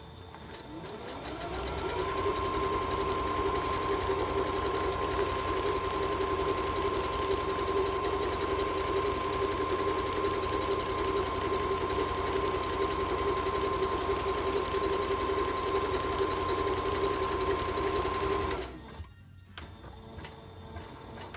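A sewing machine stitches a cushion slipcover in one steady, close, continuous run of rapid needle strokes with a constant motor hum, stopping abruptly near the end.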